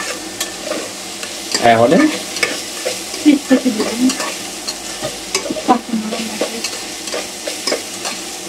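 Chopped okra tossed into hot oil with turmeric, a sizzle under clattering stirring with a spoon against the pan, uneven bursts of scraping and bubbling, and a brief spoken word.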